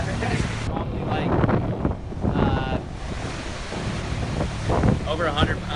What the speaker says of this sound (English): The wind with the noises going all around you.